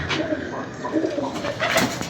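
Pigeons kept by a pigeon fancier coo in soft, low, repeated murmurs, close by and steady over a faint background hum.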